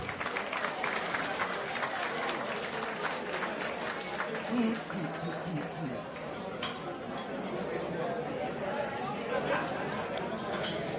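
An audience at an awards gala applauds a pianist and singer, moderate clapping mixed with chatter and clinking dishes in a busy hall.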